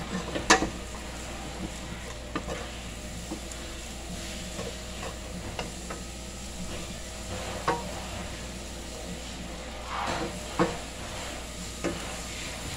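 Sinangag, Filipino garlic fried rice, sizzles softly in a pan while a spatula stirs it, with intermittent scrapes and clicks against the pan over a continuous gentle frying hiss.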